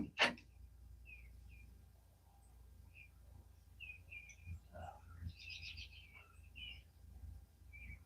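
Birds sing at dawn outdoors, with scattered short chirps and tweets from several directions over faint background noise and a sharp knock at the start.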